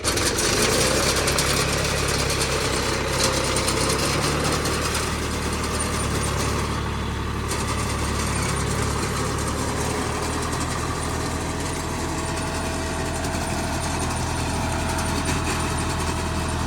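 A John Deere tractor engine idles steadily in a wet paddy field during a rice harvest, a loud continuous drone close by throughout with no talk.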